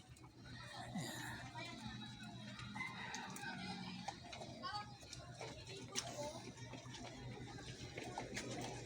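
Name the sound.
chickens clucking and rooster crowing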